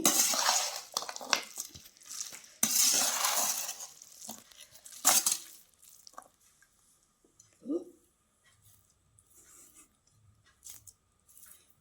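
Boondi laddu mixture with ghee, cashews and raisins is stirred and tossed in a metal vessel, giving dense scraping and clattering bursts in the first five seconds, then sparse faint clinks and rustles.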